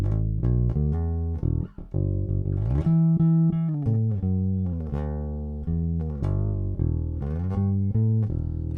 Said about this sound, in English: And that's what it sounds like with the fingers.